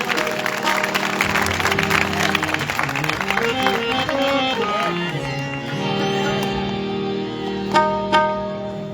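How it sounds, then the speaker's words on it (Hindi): A congregation claps together at a live Christian worship event. Applause rises over sustained music and voices, then fades into a quieter tonal background. "जोरदार ताली खुदावंद के जलाल के लिए।"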